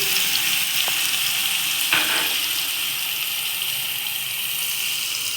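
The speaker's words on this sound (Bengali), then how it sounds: "আর হলুদ দিয়ে একটু হালকা ভেজে নেবো।" Stuffed bitter gourd fries lightly in oil with salt and turmeric, giving a steady, close, hissing sizzle with a faint scrape partway through.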